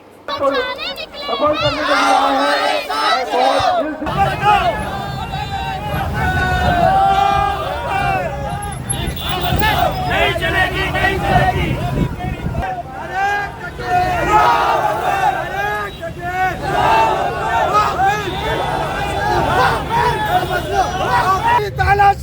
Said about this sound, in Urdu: ہاتھوں میں پلے کارڈز تھامے وقف بل کی واپسی کے نعرے لگائے